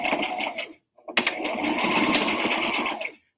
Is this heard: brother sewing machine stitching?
yes